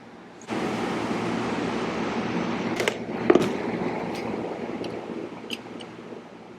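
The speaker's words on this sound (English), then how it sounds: "I apologize for the background noise, but that's the AC and the fans" Steady broadband whir of an air conditioner and fans running indoors, switching on after a brief quiet start and holding as a constant hum, with a few faint clicks and knocks over it.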